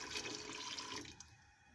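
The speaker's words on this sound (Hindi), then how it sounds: "2 कप पानी ऐड करेंगे" Water pours steadily into a cooking pot of green split moong dal, a continuous splashing rush that eases off toward the end, close and alone without talk.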